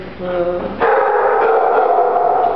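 Dogs at a run-down animal shelter bark and yelp continuously in a loud chorus nearby, following a short moment of quieter tonal whining at the start.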